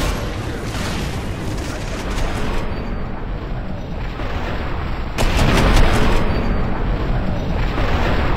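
Heavy explosive blasts and booming gunfire from the Far Cry 3 video game fill the scene with a constant loud din, and a sharper, stronger blast hits about midway through.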